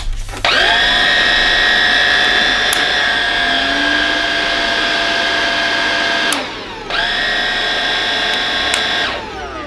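A Bosch BBH3211GB cordless vacuum cleaner running steadily with a loud high whine, switched briefly off and back on partway through as it changes between minimum and maximum power, close and alone.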